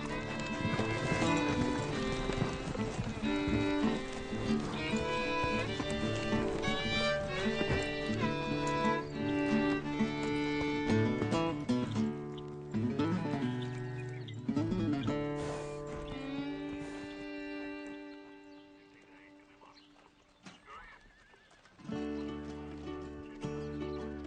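Ranch horses run with clip-clopping hooves, heard under a loud, prominent musical score with sustained tones that fades briefly before swelling back.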